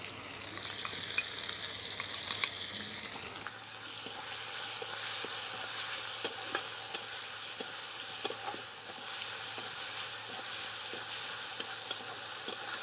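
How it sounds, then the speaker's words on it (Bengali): Mutton fat hits a hot pan with ginger-garlic paste and breaks into a loud, steady sizzle, with stirring scrapes and crackles running continuously after a brief hiss at the start. "এবারে আমি খাসির মাংসের চর্বিগুলো দিয়ে দেবো"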